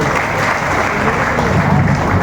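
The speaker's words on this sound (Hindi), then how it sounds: "एक बार जोरदार ताली होना चाहिए" Steady, dense applause from a crowd fills the space, many hands clapping continuously at full volume without a break.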